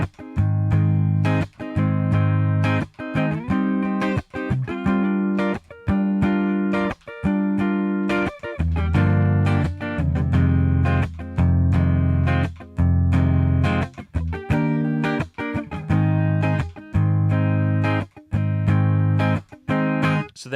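Guitar chords ring out in a steady progression, the intro to a song, each one struck and held before the next, with brief breaks between phrases and no talking.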